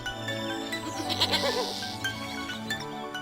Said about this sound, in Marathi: एका डोंगरावर एक उदास बकरी